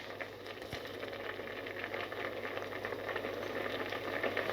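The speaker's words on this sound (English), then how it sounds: "we're just going to wait for that to come to the boil and cook a little" A pot of rice and water for kheer coming to the boil, a soft, steady bubbling hiss that gradually builds in loudness, close by and uninterrupted by speech.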